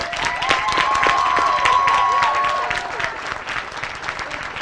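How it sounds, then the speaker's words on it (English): An audience applauds at an 8th grade promotion ceremony, with steady, full clapping that tapers slightly toward the end and a faint tone under it. "Please give them another round of applause."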